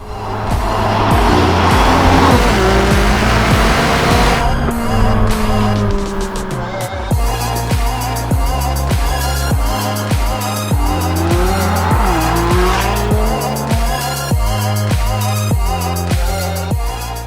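A McLaren 570GT engine revs hard and loud, with gear changes, brief tire squeal, then a rhythmic series of sharp upshifts and throttle bursts.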